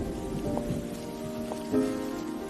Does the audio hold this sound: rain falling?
yes